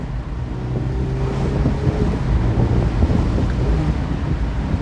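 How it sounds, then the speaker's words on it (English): Engine of a light Mazda Miata blipping through a rev-match downshift, a steady droning note with rising and falling pitch over continuous wind and road rush, heard from inside the moving car. "Like, the way you can rev match, listen to this."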